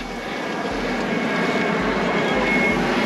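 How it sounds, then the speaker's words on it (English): Airplane passing overhead during a large pedal bike rideout in Miami, a steady loud engine roar that holds throughout with no talking. "look at the airplane though"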